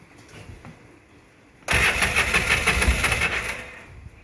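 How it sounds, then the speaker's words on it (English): The engine of a 2013 Polaris RZR 800s after a rebuild stays quiet, then cranks and fires about a third of the way in, running loud and rough for a couple of seconds before easing off slightly. No one speaks. "Let's go ahead and start it and see what she sounds like."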